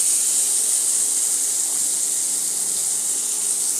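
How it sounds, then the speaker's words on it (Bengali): Oil sizzling steadily in a wok while frying, a constant close hiss with no talk. "কড়াটা ভাজা ভাজা হোক একটু"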